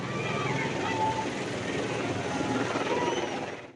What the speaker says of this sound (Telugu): మీదకు లేచిన హెలికాప్టర్ పూలు చల్లుకుంటా ఒక్కసారి కిందకు వచ్చింది